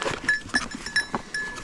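Goats bleat close by in a mountain setting, giving several short, nasal, wavering cries in quick succession.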